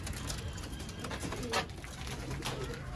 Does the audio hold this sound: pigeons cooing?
yes